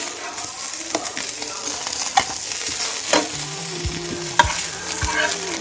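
Amudi fish frying in a pan, a steady broadband sizzle with a few sharp scraping clicks of a spatula stirring and turning the pieces, close and alone without talk.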